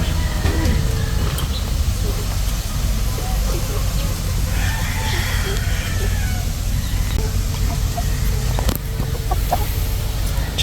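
Chickens clucking and rustling in a noisy outdoor yard, with a steady low background rumble throughout.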